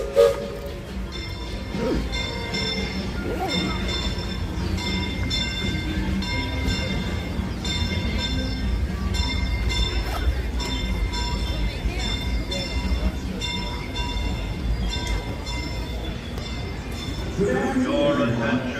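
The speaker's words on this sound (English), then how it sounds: "The Disneyland Limited, now arriving from a trip around Walt Disney's Magic Kingdom." Disneyland Limited steam train of the Disneyland Railroad arriving at the park's station, rumbling and clanking steadily at close range for the whole stretch, with a faint whistle, crowd murmur and a station announcer's voice over it.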